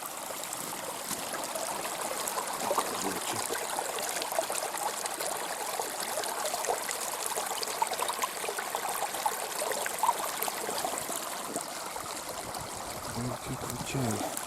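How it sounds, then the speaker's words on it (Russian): A forest stream flows steadily beside fallen trees on an autumn hunting trek, a continuous broadband rush and trickle of water close by that runs the whole time without pause. "Ручей такой."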